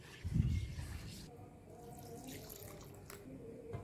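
Pandan juice poured into a cendol mixture, starting with a louder splashing gush and settling into a steady, softer liquid trickle, heard up close.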